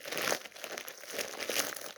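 Plastic packaging around a Stitch toy crinkles and crackles in close, continuous bursts as someone struggles to open it, with no talking.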